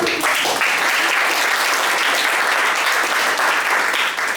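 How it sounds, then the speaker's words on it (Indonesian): Classroom of students applauding, a dense, steady burst of clapping that stays loud and close for about four seconds before easing slightly at the end. "Wah, tepuk tangan."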